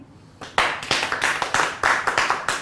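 Audience members at an event clap to vote for orange number 1, a small group's claps starting abruptly with distinct, fairly close individual hand strikes in a quick, uneven rhythm.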